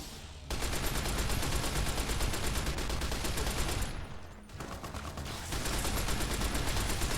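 Sustained, loud automatic gunfire from a weapon in Fallout: New Vegas, Lonesome Road, fires in a dense rapid stream for about seven seconds, with one short dip in intensity midway before the burst resumes.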